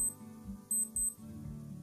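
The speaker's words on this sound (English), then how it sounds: "it will give beeping sound like this" A few short, high electronic beeps from a Casio G-Shock GA-700 digital watch, faint and spaced irregularly over a low steady hum.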